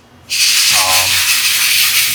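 A sandblaster blasting metal UTV parts in an off-road manufacturing facility starts abruptly and keeps up a loud, steady roaring hiss, with a brief lower rumble partway through.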